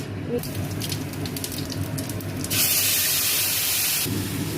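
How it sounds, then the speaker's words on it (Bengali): Cumin seeds, dried red chillies, a bay leaf and three cardamom pods sizzle in hot oil left from frying plantain koftas, a steady loud hiss that rises sharply partway through and then settles. "ফোড়ন দিচ্ছি জিরে, শুকনো লঙ্কা, 1 পিস তেজপাতা, 3টে এলাচ"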